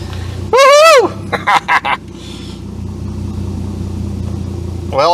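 A turbocharged Holden VL engine runs with a steady low rumble throughout, with a few sharp throttle blips early on. A loud whooping voice rises over it near the start.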